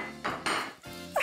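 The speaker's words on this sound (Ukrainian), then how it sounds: "Хто останній ставить тарілку на стіл" Plates set down on a table in quick succession, several clattering ceramic knocks, close and fairly loud, about four distinct hits.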